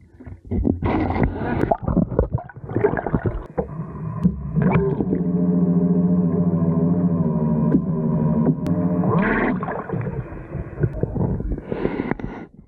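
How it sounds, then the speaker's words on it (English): The electric motor of a Stoke Foil Boost wingfoil hums steadily beneath the board, a low tonal whine that rises, holds for several seconds, then winds down, with handling knocks and rustles around it. "Maybe I can show you the motor working underneath."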